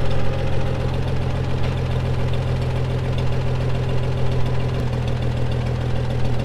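A narrow tractor engine runs steadily nearby, straining under a folding corn head load, a low rumbling drone with a faint knocking beat throughout and no voices.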